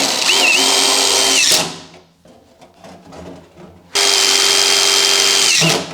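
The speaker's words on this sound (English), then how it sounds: "now we're gonna screw these in. I'm gonna be using number 8 1/2-inch self-piercing sheet metal screws" A power drill drives number 8 half-inch self-piercing sheet metal screws into HVAC ductwork in two loud close bursts of whining motor, separated by a quieter gap of handling noise.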